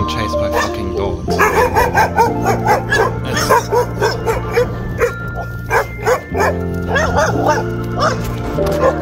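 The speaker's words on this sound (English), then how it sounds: "Always being chased by fucking dogs." Dogs chasing a touring cyclist in Thailand bark and yip repeatedly over loud music with steady tones, the barks rising above the mix in short bursts.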